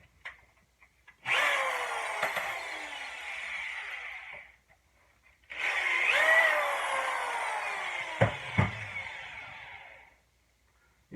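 A power drill bores holes into the wooden hull of a 30-foot dory, in two long whining bursts of roughly three and four seconds, close and loud, with a short pause between and a few knocks near the end.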